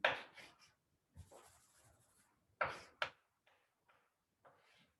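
Chalk or marker scraping across a lecture board in a quantum field theory class, in short scratchy strokes separated by pauses, close and fairly clear.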